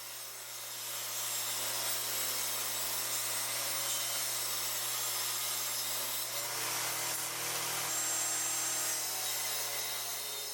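A saw cuts through wood pieces for a playing card shelf, a steady, unbroken grinding rasp over a low constant hum, close and even throughout.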